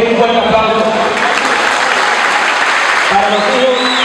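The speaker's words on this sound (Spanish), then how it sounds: "yo quiero pedir un fuerte aplauso" Loud, close applause from an audience at a Spanish-language ceremony honoring a young man's children, a thick continuous roar of clapping with voices and cheers mixed in.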